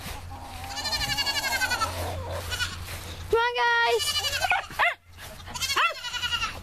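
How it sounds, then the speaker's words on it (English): Goats in a farm goat pen bleat repeatedly and loudly at close range, several overlapping calls, while someone talks to them and a dog can be heard. "today I'm in my goat pen. I'm going to be playing with my goats."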